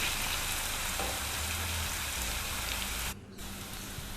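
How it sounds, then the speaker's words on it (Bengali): Potatoes coated with salt and turmeric fry in a pan, a steady close sizzling hiss that briefly dips near the end, with no voices. "এখানে আলু ভাজতেও বসিয়ে দিয়েছি আমি"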